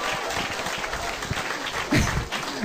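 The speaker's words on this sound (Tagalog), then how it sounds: "Ang hina na palakpak nyo!" An audience claps together at a business opportunity presentation, a dense and steady wash of applause that stays fairly close and even throughout, with a shout or cheer rising briefly near the end.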